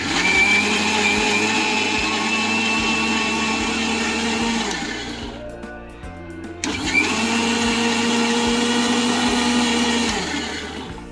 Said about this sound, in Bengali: বোরহানি তৈরির জন্য সবকিছু দেওয়া হয়ে গেছে। এবার আমরা চলে যাব ব্লেন্ড করতে।